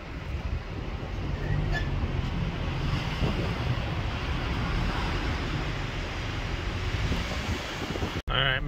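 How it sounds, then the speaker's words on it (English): Steady strong wind rushes through snowy mountain terrain near camp, a continuous loud roar that sounds almost like surf, with a brief sharp knock near the end. "it's super windy"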